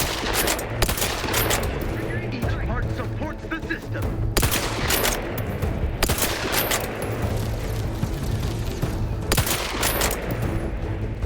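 Rapid bursts of gunfire in The Outer Worlds 2, played on very hard difficulty while aiming for headshots, crack out in several loud volleys, with pauses between them and faint speech underneath.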